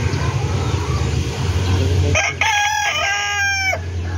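A rooster crows loudly and close by in a single drawn-out call over murmuring voices and market background noise, following a stretch of busy chatter.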